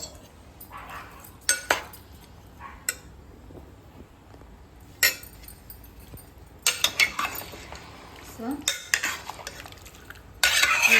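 Ash gourd cubes for Agra-style petha are stirred in sugar syrup in a pan, with close scraping and clinking of the spoon against the pan in irregular bursts that grow busier and louder toward the end.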